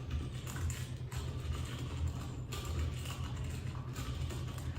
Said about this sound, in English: This is an aluminum container that's filled with steel BBs. So when I put the magnet on it,